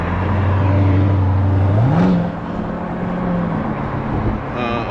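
Corvette Z06 heard from inside on a ride along, with a loud, steady engine drone that rises in pitch as the car accelerates, then settles into a smoother cruise.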